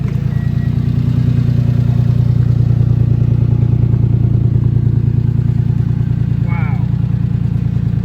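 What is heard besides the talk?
Acura (Acty) exhaust sound after first start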